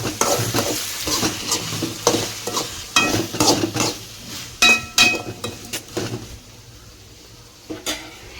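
A spoon stirs sautéing ingredients in a pan for a kuzhambu, scraping and clinking in an irregular rhythm over a soft sizzle, close by and fading near the end.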